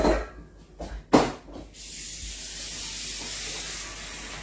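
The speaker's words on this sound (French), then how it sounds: "On va faire couler de l'eau dedans." Water running into a container in a home kitchen, a few bumps and clatters at first, then a steady close hiss of flowing water.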